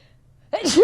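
A single sharp sneeze bursts out of near silence halfway through, loud and close, followed by a brief voiced tail as the breath releases.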